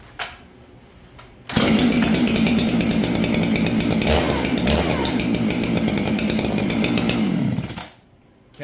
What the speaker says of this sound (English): This saw is one I use a lot dropping trees.